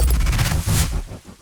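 Layered hard-hitting impact effects for a motocross bike rushing past: a loud, dense burst of rapid stuttering hits with deep booming low end, a brief airy swish near the middle, trailing off into muffled pulses.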